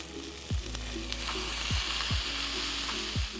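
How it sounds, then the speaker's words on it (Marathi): Washed fenugreek leaves hit a hot pan with coriander-cumin powder for a methi kohlrabi bhaji, giving a steady close sizzle broken by several sharp thumps of a spoon against the pan. "स्वच्छ धुतलेली जी मेथीची पानं आहेत ती आपल्याला ह्याच्यामध्ये घालायची आहेत."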